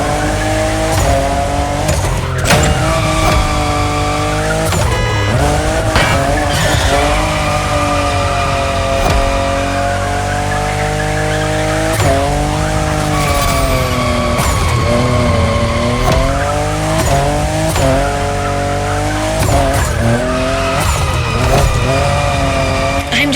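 A fifth-generation Toyota Supra drifts in The Crew Motorfest, its engine revving and wailing as tires squeal and skid continuously, loud and close with repeated throttle swells.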